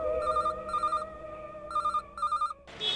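A telephone rings in repeated double trills with short pauses, clear and close, over a faint background tone.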